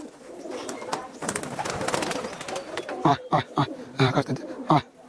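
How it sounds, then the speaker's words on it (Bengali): Pigeons at a house in Kolkata cooing, with soft, throaty coos repeating in short bursts close by, growing more distinct and rhythmic in the second half over a low background murmur. "এই হচ্ছে পায়রা।"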